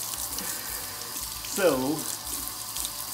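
Water running from a kitchen tap to rinse a T-bone steak before it is scrubbed with a sponge, a steady splashing wash throughout, with a brief spoken word over it.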